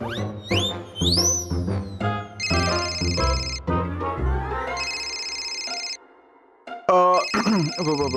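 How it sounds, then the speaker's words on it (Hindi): A phone ringtone plays loudly and melodically in repeated electronic bursts, briefly dropping out before starting again. "ये शर्मा जी का होटल से फोन है, थोड़ा इम्पोर्टेंट है।"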